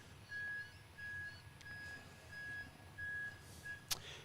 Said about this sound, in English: Hear the truck in the background there.